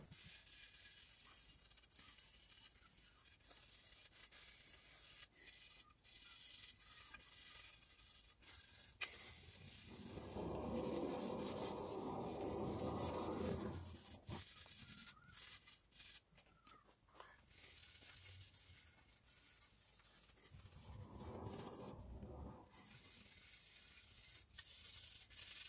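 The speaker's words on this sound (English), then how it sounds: "So I'm going to buff it with steel wool first, then hit it with 220 grit sandpaper." Steel wool buffs a 1 1/4 walnut stick in soft, quiet scrubbing strokes, with two longer stretches of denser rubbing standing out over a faint background hiss.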